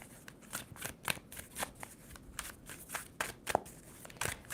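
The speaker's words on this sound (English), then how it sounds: "2 more shuffles for Libra." A deck of tarot cards is shuffled by hand in a quiet room, giving a quick series of crisp riffling and slapping bursts that come close and fairly loud, with brief pauses between them.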